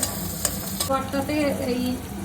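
Tomato and onion frying in a pan, with a steady close sizzle and a few clicks and scrapes of a utensil. No one speaks.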